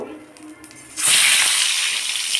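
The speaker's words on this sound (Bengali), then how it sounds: "তেলে ভেজে নিচ্ছি" An egg hits hot oil in a pan and immediately erupts into a loud, close, steady sizzle that continues after a quiet moment of faint background.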